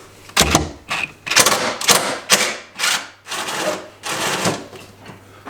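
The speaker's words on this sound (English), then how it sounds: "it's a T30 Torx bit to take these off" A T30 Torx bit drives bolts out of the bumper on a 2024 Ski-Doo Summit Gen 5 snowmobile, giving a series of short whirring and ratcheting bursts, about eight in quick succession, loud and close with brief pauses between them.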